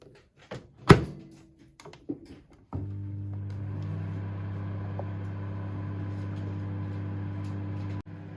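A microwave oven heating a scrambled omelette egg: a few door thunks and clicks, then a steady low electrical hum running alone and close until a final click.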